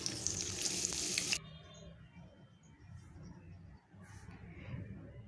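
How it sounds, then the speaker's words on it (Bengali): Onions hit hot oil with whole garam masala in a pan while khichuri is being made. A loud, dense sizzle for the first second or so quickly drops to a quieter, steady frying hiss. "পেঁয়াজটাকে হালকা লালচে পর্যন্ত ভেজে নিতে হবে।"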